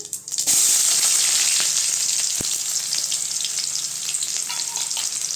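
Cumin seeds and onion hit hot oil in a pan for a bottle gourd stir-fry, bursting into a loud, close, steady sizzle with a few light clicks and stirring taps underneath.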